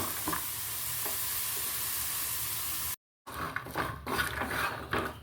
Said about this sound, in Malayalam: ഇനി അത് നന്നായിട്ട് വറുത്തെടുക്കും